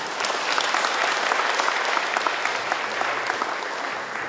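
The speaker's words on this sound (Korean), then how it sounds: "여러분 다시 한번 큰 박수 부탁드립니다" Audience at a Korean regional government forum on low birth rates gives a round of applause, dense continuous clapping at moderate level throughout, with no talk over it.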